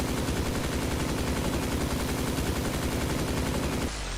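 A reloadable minigun blazes away at a brute at medium range in a video game, a loud, dense, unbroken stream of rapid gunfire that cuts off abruptly near the end.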